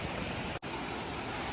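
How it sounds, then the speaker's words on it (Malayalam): Forest stream near Palchuram waterfalls, flowing water as a constant soft broadband rush with one momentary dropout, faint and steady. "ഈ സൈഡ് നല്ല അരുവികളുണ്ട് കേട്ടോ."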